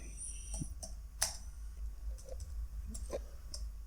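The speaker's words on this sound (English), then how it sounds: "I'm just typing anything" Scattered keyboard clicks from typing on a computer, a few light taps spread irregularly across a few seconds over a steady low hum, fairly faint and close.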